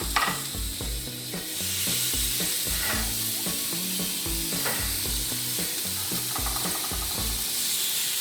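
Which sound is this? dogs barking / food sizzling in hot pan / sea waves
food sizzling in hot pan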